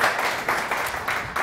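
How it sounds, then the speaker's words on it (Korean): An audience at a violin concert applauds with quick, uneven bursts of clapping, close and moderately loud over a brief moment, with no voices heard. "박수 좀 많이 보내주세요"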